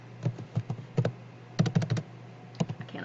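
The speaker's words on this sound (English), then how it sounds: "I cannot type today." Rapid bursts of computer keyboard typing, close and crisp, clustered keystrokes in uneven groups with brief pauses between, no talking.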